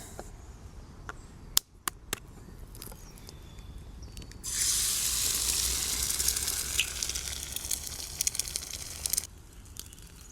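An egg frying in a pan on a Trangia mini camping stove, with a steady close hiss and sizzle beginning after a few small clinks and crackling on for several seconds before it dies back.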